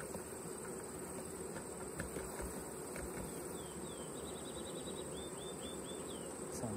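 Honeybees being poured into a mite-testing jar give off a faint, steady buzzing hum, with scattered brief higher whines over a low background murmur.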